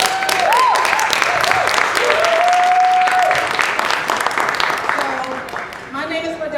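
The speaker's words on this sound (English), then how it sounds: "Can you guys give Beverly another round of applause?" Audience applause for an honored woman at an event, loud sustained clapping from a crowd throughout, with sustained musical tones and some voices mixed in underneath.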